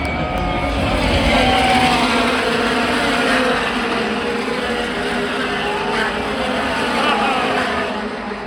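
IndyCar race cars bunch up at the Indianapolis 500 for a restart, a broad, steady engine roar swelling and easing as the pack runs together, with race commentary talking over it.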